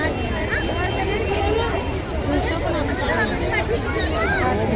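Dense crowd babble fills a busy Krishna temple, many voices overlapping continuously at steady loudness, with occasional faint clatter beneath.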